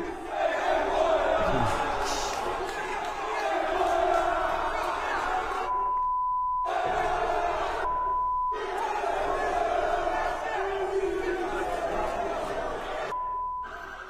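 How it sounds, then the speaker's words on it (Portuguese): Corinthians football supporters in a stadium crowd chanting in unison, a loud sustained roar of massed voices with several abrupt cuts where a beep briefly sounds over silence. "E a torcida tem razão de chamar o time de sem vergonha nesse momento"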